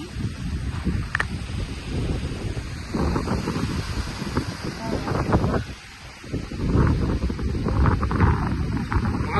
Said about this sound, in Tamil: இப்போ பாருங்கள் எப்படி மழை இருட்டிட்டு காற்று அடிக்குது